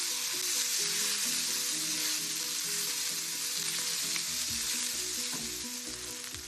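Sausage and caramelized onions sizzle loudly and steadily in a pan as they are stirred together, a constant close frying hiss with low tonal sounds running underneath throughout.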